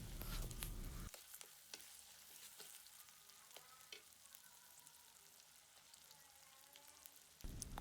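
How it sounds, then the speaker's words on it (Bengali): Ginger-garlic paste frying with prawns in a pan, a faint continuous sizzle with scattered light ticks and scrapes of stirring, framed by louder bursts of sizzle at the very start and end. "বেটে রাখা আদা রসুনটাকে এর মধ্যে দিয়ে দিলাম। দিয়ে ভালো করে এটাকে নেড়ে নেবো আমরা।"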